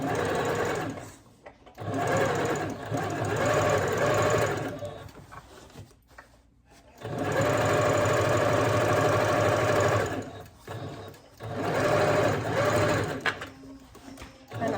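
A sewing machine runs in bursts while hemming a pair of jeans with the original hem, whirring loudly for several seconds at a time with brief pauses between runs. No speech is heard.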